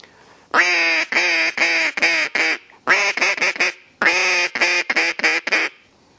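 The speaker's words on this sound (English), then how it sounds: "that's a custom duck call from the beginning to the end" A custom Flaherty duck call is blown in three bursts of rapid, loud, close quacking notes, each run tapering off, with short silent breaks between and no talking.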